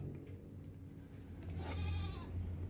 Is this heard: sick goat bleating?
yes